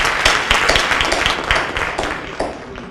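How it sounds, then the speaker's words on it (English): Audience applause at a city MLK oratorical contest, a steady wash of many hands clapping at moderate loudness for about three seconds with no voices over it. "give yourself a round of applause"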